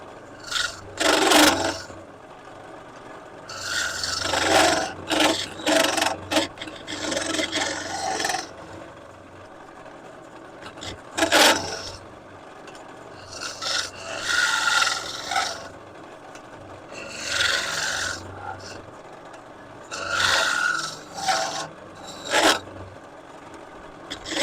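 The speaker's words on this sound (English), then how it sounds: "this fender gouge seems to be cutting just fine" A fender gouge cuts along the top surface of a spinning wooden piece on a woodturning lathe, giving repeated rasping, scraping bursts of a few seconds each with short pauses between, close and fairly loud with no talking.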